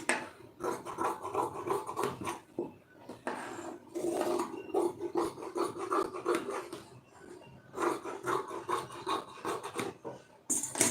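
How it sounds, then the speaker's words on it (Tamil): Scissors cut through blouse lining fabric in a series of close, raspy snips and rustles that come in bursts with short pauses between them, and no speech is heard. "இப்போ அதை அப்படியே கட் பண்ணிடுவோம்"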